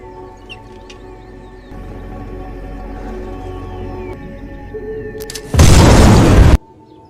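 A single loud, broad blast from an explosion in a mine tunnel bursts out after several seconds of low rumbling ambience, lasting about a second before cutting off sharply.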